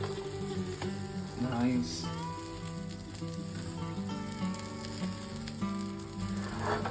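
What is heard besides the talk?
cheesy omelette sizzling while frying in a kadai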